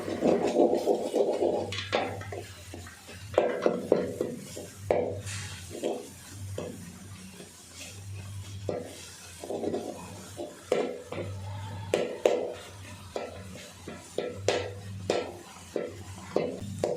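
Egg being stirred together with manathakkali greens in a pan, a steady series of scraping, clacking spoon strokes against the metal with a soft sizzle beneath, repeating rhythmically and close up throughout.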